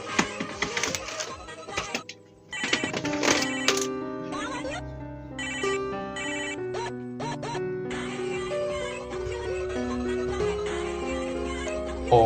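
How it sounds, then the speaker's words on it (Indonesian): A mobile phone ringtone plays loudly as a melodic, repeating electronic tune that carries on throughout, with music-like tones layered and continuous. "Duh Jan, itu HP ku bunyi."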